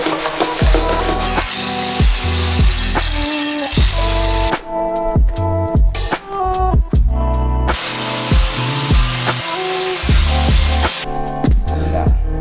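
PVC pipe ground down with a power tool to fit a Honda CB400 fork seal, loud close harsh grinding in bursts with brief pauses.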